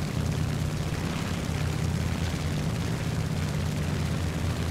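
Yak-3 propeller fighter planes in War Thunder produce a steady, loud engine drone with a deep low rumble, holding unbroken throughout with no talk.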